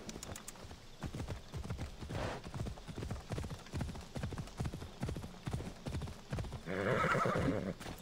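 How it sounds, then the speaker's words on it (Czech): Hooves of a horse clip-clop in a steady rhythm in the video game Assassin's Creed Odyssey. The horse whinnies loudly near the end. "vezmu si tadyhle koně"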